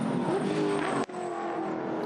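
A V8 Ute Series race car blows past on the Hidden Valley track, a loud engine whine that cuts off abruptly about halfway and resumes at a lower, steadier level.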